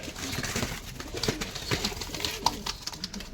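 A male pigeon coos inside a loft, soft throaty calls rising out of a busy background of rustling and other birds.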